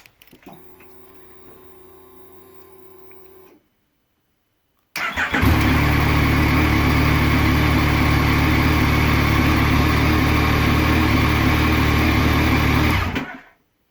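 A 2016 Yamaha Tracer 900 motorcycle fires up after a brief starter whir and settles into a loud, steady idle close by, running about eight seconds before cutting off, with no talking.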